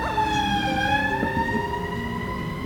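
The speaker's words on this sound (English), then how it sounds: "There's the neighborhood fire engine." A fire engine siren wails steadily through a neighborhood, its rising and falling tones loud and continuous for the whole stretch, with no talking over it.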